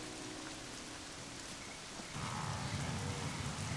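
Heavy rain pours down on the Serengeti in a steady, dense hiss that swells louder and fuller about halfway through, with no voices.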